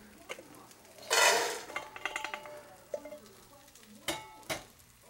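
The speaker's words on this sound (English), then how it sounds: "I'm going to grab this pan. I'm going to set that pan right there." A metal pan is lifted and set back down on a stove while stuffing heats, giving a loud scraping clatter followed by a few softer knocks and clinks, with a faint sizzle underneath.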